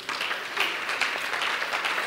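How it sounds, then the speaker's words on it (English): A church congregation claps together in steady, dense applause that stays even and fairly loud throughout. "Let's clap for Jesus Christ."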